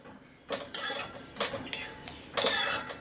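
A spoon stirring methi and green peas with thick coconut milk in a pan, several scraping, clattering bursts of metal against cookware in irregular strokes, close and fairly quiet with no talking.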